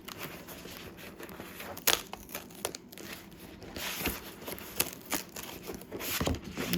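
Sticker paper peeled off a Cricut cutting mat, with close, uneven crackling and tearing rustles in short bursts and a few sharper snaps, fairly quiet with no talk.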